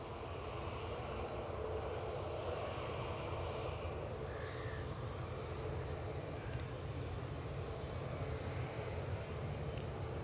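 Steady, continuous roar of EasyJet airliner engines at Edinburgh airport, a broad, fairly distant rumble holding level throughout with no talk.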